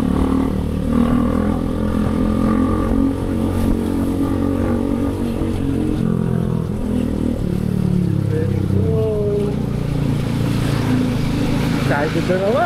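A motorcycle on a muddy trail on the way to a limestone cave campsite, the engine droning and revving close by over rough ground, with excited voices talking above it.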